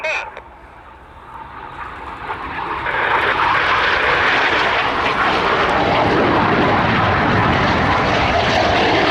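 Red Arrows jets of the RAF flying a synchro pair manoeuvre at an airshow display: engine roar builds from quiet to a loud, sustained rushing sweep that stays strong to the end.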